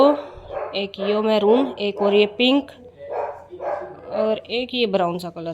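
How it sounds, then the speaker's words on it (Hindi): A neighbour's dog in the house behind barks repeatedly in the background, half-buried beneath someone talking steadily up close. "मेरे बैकग्राउंड में आपको कुत्ता भौंकने की आवाज़ सुनती होगी बहुत"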